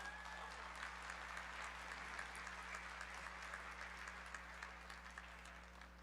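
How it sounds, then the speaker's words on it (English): Sustained applause fills a university commencement ceremony hall, a dense steady wash of many hands clapping at even loudness with a low electrical hum beneath, continuing without a break. "Another round of applause."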